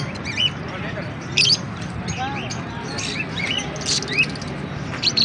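Yellow ring-neck parakeets at a busy Islamabad bird market give sharp, scattered chirps and squawks over a crowded background murmur, with people talking nearby.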